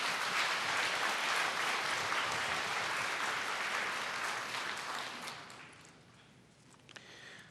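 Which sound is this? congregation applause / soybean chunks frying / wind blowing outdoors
congregation applause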